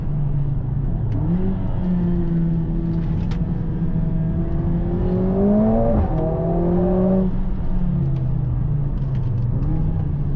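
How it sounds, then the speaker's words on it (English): A 2025 Mercedes-AMG A45S facelift hot hatch revs and accelerates with a steady, loud exhaust drone, climbing and dropping in pitch through several gear shifts over about ten seconds. "Also have real exhaust sound, pops, and also gear shifts, the banks, everything is real."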